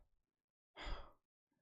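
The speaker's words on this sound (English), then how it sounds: "I'm still breathing heavy" A single heavy exhale or sigh after fast push-ups, a short loud breath burst standing alone between near silence.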